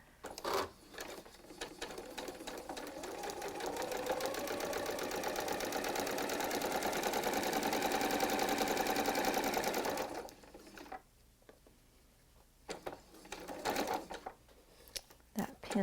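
A sewing machine with a 1/4 inch foot stitches quilt fabric in a steady, fast whirring run for about ten seconds, then stops, followed by soft handling noises and a few brief stitch bursts as a person talks.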